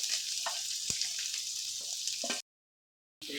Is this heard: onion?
yes